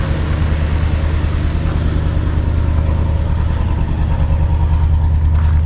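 A simple carbureted car engine idles smoothly and loudly up close, a steady low rumble with an even pulse throughout and no talking.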